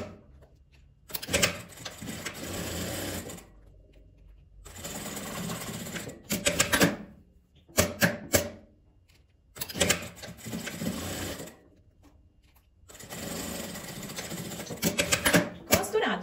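Sewing machine stitching fabric in several bursts of rapid mechanical whirring, broken by short pauses for backstitches, close and steady, with someone speaking between runs.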